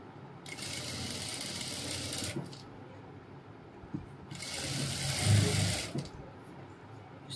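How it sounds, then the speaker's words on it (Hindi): A sewing machine stitches net fabric for a cap dress in two separate runs, each a buzzing whir of about two seconds with a quiet pause between. "एक तरफ सिलाई मारना शुरू करेंगे"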